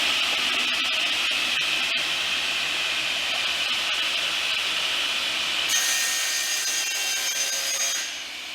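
A saw blade cuts through wood in a cabinetmaker's art-woodworking workshop, running as one steady, loud, continuous whine that changes pitch near the end before stopping.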